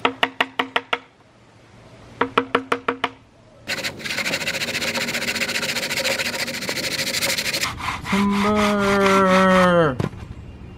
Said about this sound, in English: I'm just going to cut that off with the handsaw.